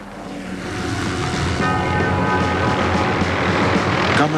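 A military helicopter carrying infrared cameras for night combat gives a loud, continuous rotor and engine roar that builds slightly over a few seconds and then holds steady, close and dominant.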